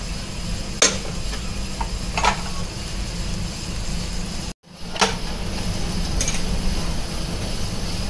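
Alu vadi pieces shallow fry in a little oil over medium-high gas, giving a steady broadband sizzle with a few soft utensil taps and a brief break midway.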